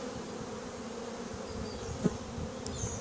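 Honeybees buzz steadily around a hive being set up, a dense continuous drone close by with a brief louder swell near the middle and no voices.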